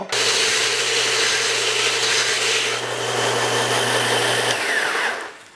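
A 0.5-horsepower disc and belt sander grinds against the face of a wood workpiece with a steady, loud, continuous whir and an even motor hum, then winds down near the end with no talk.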